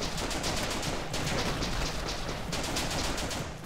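Automatic G36C rifle fire in the video game The Legend of Alfur: dense continuous bursts of rapid shots, loud and close, with short breaks between sustained volleys, no talking.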